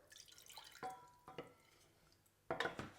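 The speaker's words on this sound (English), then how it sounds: "And you just keep adding a bit more water" Water trickles and drips into cacao paste being mixed. The sound is faint and close, with a few soft splashes and a brighter splash near the end.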